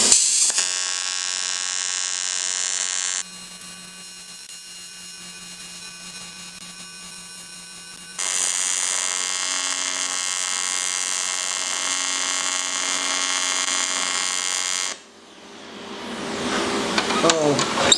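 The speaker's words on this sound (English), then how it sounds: "I'm gonna flip it around and see if I can weld up the other side." An AHP Alphatig TIG welder runs on aluminum with a loud, steady high buzz in two long stretches separated by a quieter pause. A rustling, shifting tail follows at the end.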